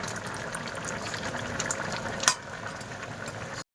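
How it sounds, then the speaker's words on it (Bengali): Crab curry with Sundarbans river crab, Malabar spinach and potatoes bubbling in a pot after spices go in, a steady close simmering burble with one brief clink, then cutting off abruptly. "মশলা দেওয়ার পরে দু মিনিট ফুটিয়ে নেব"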